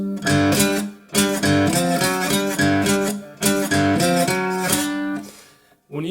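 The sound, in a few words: guitar intro riff from a song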